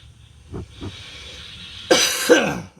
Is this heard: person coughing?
yes